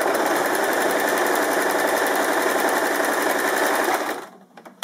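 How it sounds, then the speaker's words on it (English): A sewing machine fitted with a double needle runs steadily, stitching two parallel lines with a single bobbin thread through fabric. The loud continuous mechanical whir lasts about four seconds, then stops abruptly, leaving near silence. "The sewing machine takes care of everything."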